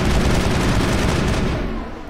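Sustained, dense gunfire barrage in the sci-fi shooter Mass Effect, with rifles firing during a battle against Geth on Feros, loud and continuous before easing slightly toward the end.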